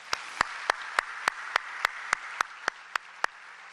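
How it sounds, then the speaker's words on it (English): At an award presentation for school nutrition programs, a single set of claps comes in a steady, evenly spaced rhythm, about a dozen sharp claps, fairly faint, over a quiet background. "Would you give them a round of applause, please?"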